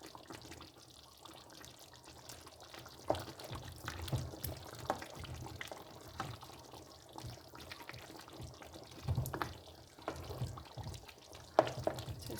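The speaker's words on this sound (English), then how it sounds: "I will add in a little bit water." Water is poured into a pot of African brown chicken stew, a soft, uneven trickling and splashing with a few brief louder sloshes, faint and close.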